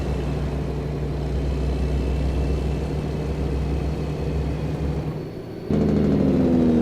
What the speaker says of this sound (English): I love the sound of the engine brakes in the Kennys.